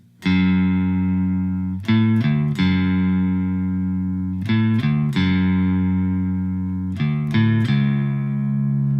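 A low, heavy electric guitar riff in drop tuning, starting on an open A, chugs through repeated sustained notes broken by quick picked bursts, loud and distorted with no voices.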